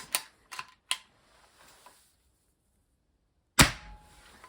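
An AEA HP Max .30 calibre PCP air rifle fires in a cold home garage, sharp close cracks in quick succession followed by a louder shot after a short silence.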